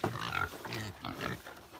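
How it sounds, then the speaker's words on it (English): Pigs on a dairy farm grunt and snuffle close by in a run of rough, low oinks with short gaps between them, and no talking is heard. "let me show you guys the piggos"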